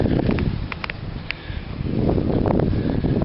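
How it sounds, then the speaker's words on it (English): Wind gusting across a summer vegetable garden in Indiana, a steady broadband rush buffeting the microphone close up, easing briefly then swelling louder again toward the end, with faint rustling. "Sorry if the wind's bad"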